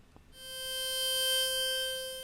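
Sustained synthesizer tone with reverb applied for a dark psytrance atmosphere, a bright harmonic-rich note swelling in and holding steady, moderately quiet, no talking.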